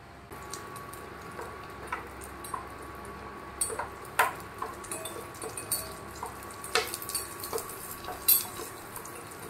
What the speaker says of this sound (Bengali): ঘিটাকে ভাজবো, তার মধ্যে কাজু বাদাম আর কিশমিশটাও ভাজবো